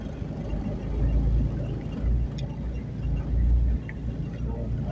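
A fruit-hauling vehicle creeps down a steep, dangerous descent in first gear. Its engine rumbles low and close and swells in a few slow waves, with faint voices underneath.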